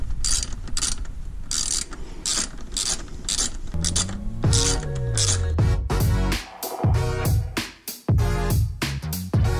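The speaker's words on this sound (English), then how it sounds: "we install all the screws and fasteners that we had taken off" Fasteners and screws are driven back into the grille trim of a MINI, with a rapid ratcheting clatter and clicking mechanical rhythm that gives way to sharper, spaced clicks toward the end.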